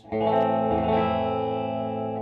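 A sustained distorted electric guitar chord rings out with a bright, buzzy edge, struck once and left to sustain and slowly fade.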